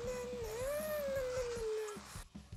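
Dogs howling in the Last Day on Earth video game, a single drawn-out wavering howl rising and falling over a steady game background, fading out near the end.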